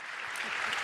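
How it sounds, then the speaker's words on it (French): Applause from the audience at the Congrès des Maires de France, a brief, dense burst of clapping heard alone and fairly distant. "je vous remercie de les applaudir"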